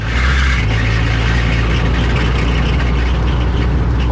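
A light aircraft engine runs with a steady, loud drone throughout, a continuous low rumble with a constant pitch and no pauses, close by.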